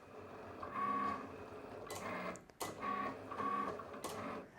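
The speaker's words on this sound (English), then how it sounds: "I think watching the Cricut draw and write is just such a neat thing." A Cricut cutting machine draws and writes with a pen, its carriage motor whirring and humming in short movements with brief pauses, quiet and close, with no voices.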